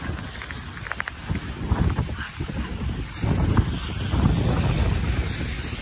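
Strong, gusty wind by the sea roars and buffets the microphone, its rumble swelling louder toward the end, with no clear voices.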